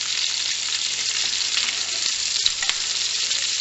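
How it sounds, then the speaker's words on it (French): Precooked potatoes sizzling in a frying pan to brown and reheat, a steady close hiss of hot fat with a few small pops, alone without talk. "c'est vraiment juste pour les faire colorer, hein, que je les passe à la poêle et puis pour les réchauffer"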